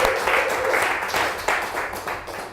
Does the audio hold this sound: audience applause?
yes